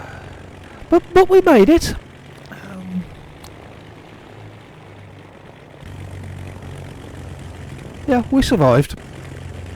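A Beechcraft Baron propeller plane lands and rolls out in the X-Plane flight simulator at the new Dunback airport, a steady engine and runway drone running under the clip, with two people talking briefly near the start and the end.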